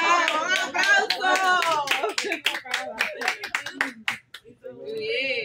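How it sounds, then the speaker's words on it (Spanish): A small group claps in sharp, uneven bursts that grow more scattered toward the end, mixed with loud voices calling out and chattering over and between the claps. "¡Un aplauso!"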